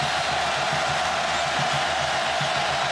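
Stadium crowd at a 2010 college football game, South Carolina at Auburn, producing a continuous loud roar of massed voices that stays steady without distinct cheers or speech.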